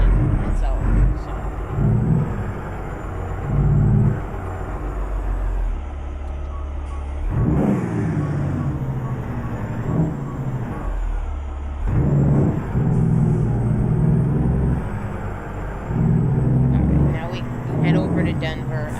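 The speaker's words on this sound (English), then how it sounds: "I like the sound of the Jake brakes on it" A heavy truck engine in American Truck Simulator rumbles steadily, with bursts of Jake brake chatter and hissing, while a voice talks over it.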